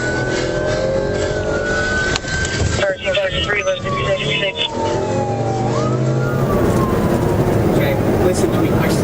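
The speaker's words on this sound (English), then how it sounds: "I stole a cop car and I'm driving." A stolen police car in a video game drives with its siren on, a wailing tone sweeping up and down over steady engine and road noise, loud and continuous, with voices talking over parts of it.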